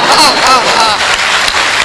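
Audience applause at a live Hindi poetry and comedy show, a dense steady wash of clapping with some voices mixed in throughout.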